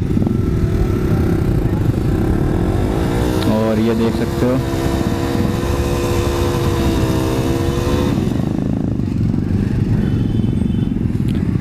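A Honda SP125 motorcycle's engine revs up and down, rising and falling in pitch over several seconds amid a loud, constant road and engine rumble, while someone talks nearby.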